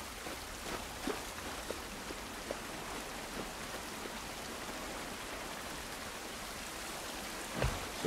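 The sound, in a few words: rain falling in the video game The Last of Us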